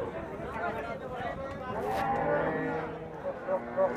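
A dairy cow moos at a busy cattle market in Aronkola, Pabna, Bangladesh. The low calls carry through steady crowd chatter and nearby talking.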